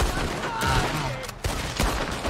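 Red Dead Redemption 2 firefight in Cuba, with a flurry of overlapping gunshots in quick bursts, loud and close against a dense background of battle noise.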